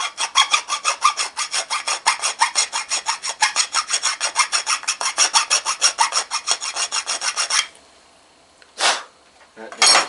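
Rhythmic hand filing on metal for a lowered-pulley MTD race mower build, a fast run of steady rasping strokes close up for about seven seconds, then a pause and two more short strokes.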